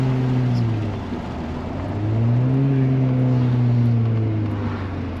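A Honda Prelude engine humming as the car drives through a U-turn, a smooth droning tone that dips and then rises with the throttle, fairly close and steady, with people talking over it.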